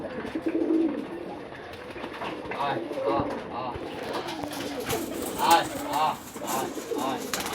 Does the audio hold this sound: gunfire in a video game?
no